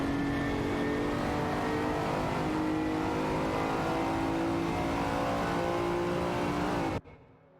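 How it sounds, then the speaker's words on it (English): Engine roar from a Porsche 959 and a Lamborghini Countach LP5000 racing in a video game, a steady loud high-revving drone with layered engine tones that cuts off abruptly near the end. "Fiery and Amma Power Offline behind the wheel of a Porsche 959, while Bobado is steering a Lamborghini Countach LP5000"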